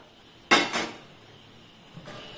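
A pot and utensil clank sharply, twice in quick succession, as boiled horse gram is strained in a kitchen. A softer knock follows near the end. No one speaks.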